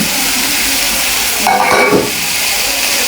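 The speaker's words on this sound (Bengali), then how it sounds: "এখন একটু ভাজা ভাজা করে নিই" Fish pieces being stir-fried in a pan give a loud, steady sizzle with a short burst of stirring and scraping midway, no talking.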